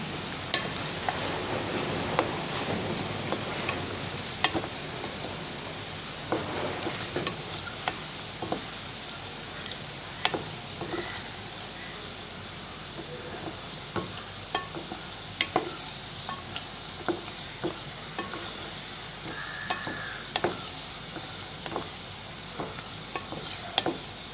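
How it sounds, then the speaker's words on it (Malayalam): Gulab jamun frying in hot oil, a continuous sizzle broken by regular clinks and scrapes of a spoon stirring them round the pan, close up and without talk. "ഇട്ട് കൊടുത്ത് അങ്ങോട്ടും ഇങ്ങോട്ടും ഇങ്ങനെ ഇളക്കിക്കൊണ്ടേയിരിക്കുക"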